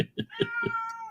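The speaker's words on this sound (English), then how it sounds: "His kitty is in heat." Female cat in heat yowling: a short sequence of four quick rising meows followed by one long drawn-out tonal cry, loud and close, with no talking.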